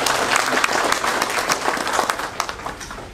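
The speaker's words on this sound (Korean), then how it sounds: "큰 박수로 맞이해 주시기 바랍니다" An audience at a peace prize award ceremony applauds warmly, a dense, steady wash of many hands clapping that fills the hall and eases off slightly toward the end.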